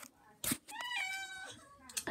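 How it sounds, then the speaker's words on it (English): A pet cat meows close by, one drawn-out wavering meow framed by short noisy bursts of movement or breath. "All he's doing now is meowing."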